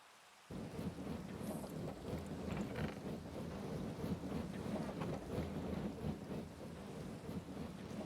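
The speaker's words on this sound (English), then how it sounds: "whilst it's pissing down with rain" Heavy rain with rolling thunder in the Minecraft modpack All the Mods 7, a dense, steady roar of downpour starting abruptly after a brief quiet moment and continuing loud and unbroken, with low rumbles beneath.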